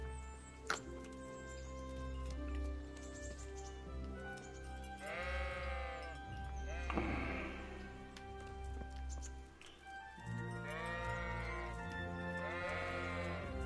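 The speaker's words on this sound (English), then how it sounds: "It's best to shoot these sheep." Sheep bleat repeatedly in the game Kingdom Come: Deliverance, several drawn-out wavering calls rising out of a steady ambient hum and soft game sounds, fairly near with gaps between them.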